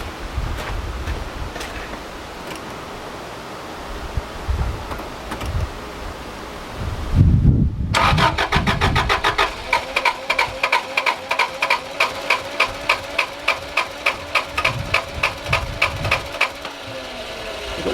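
A Subaru RS Liberty AWD turbo, parked for ten years and primed with fuel down the throttle body, cranks on the starter after a brief pause, a fast, even chugging rhythm that runs on for several seconds without catching.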